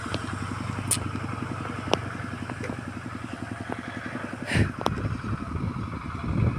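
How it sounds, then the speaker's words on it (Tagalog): A motorcycle engine putters with a rapid, even chugging throb outside, steady and moderately loud through the whole stretch with a couple of faint clicks over it. "Nakaalis na yung motor na dumaan."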